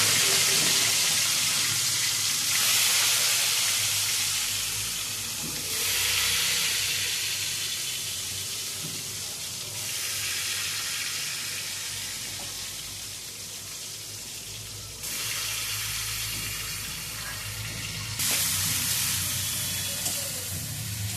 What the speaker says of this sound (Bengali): মাছগুলো এবার ভাজা হবে